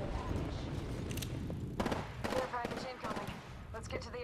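Gunfire in a multiplayer shooter game, scattered sharp shots and short bursts over a busy background of game noise, with a player talking over the action.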